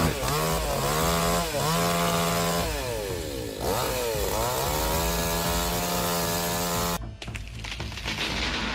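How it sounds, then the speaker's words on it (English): A chainsaw cuts into a leaning cedar tree, its engine loud and close as it revs up and down through the cut before it suddenly stops and gives way to rougher noise. "then using a saw to cut the remaining parts"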